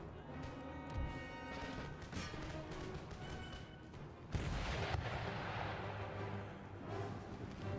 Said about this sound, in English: Retarget the artillery into the center.